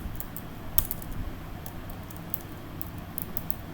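Code being typed on a computer keyboard, quiet scattered key clicks with one sharper tap early on, close and alone without speech.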